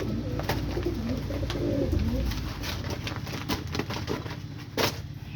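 A racing pigeon in a loft coos in a couple of low throaty phrases near the start, followed by scattered clicks and wing flutters from nearby birds.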